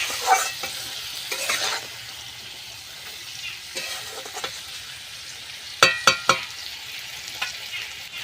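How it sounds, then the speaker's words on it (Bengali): A ground ginger, cumin and coriander paste fries in a pan with a quiet crackling sizzle, bursts of stirring, and a quick run of three sharp spatula clacks near the end, voiceless. "আদা জিরে ধনে একসাথে বাটা আমি দিয়ে দিলাম"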